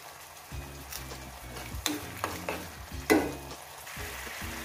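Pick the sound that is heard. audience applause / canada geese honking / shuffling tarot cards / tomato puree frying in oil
tomato puree frying in oil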